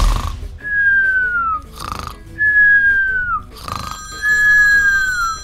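A telephone rings in a Playmobil toy police film, with three loud bursts of ringing alternating with gliding whistle-like tones, close up and with no talking.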